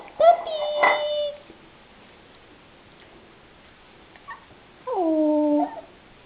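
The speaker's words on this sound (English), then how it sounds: "look at all the puppies" Young puppies, about a month old, let out a few high, thin whines and whimpers separated by quiet gaps, with a longer wavering cry near the end, close by.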